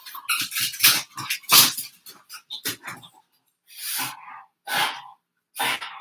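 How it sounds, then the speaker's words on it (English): Several pet dogs play excitedly indoors nearby, letting out loud, close bursts of barks, growls and snorting whimpers in irregular clusters separated by brief pauses. "my dogs are just going ham over here."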